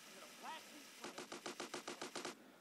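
Gunfire in GTA San Andreas on Android comes as a rapid burst of about a dozen evenly spaced shots, loud and close, after brief electronic game sounds at the start.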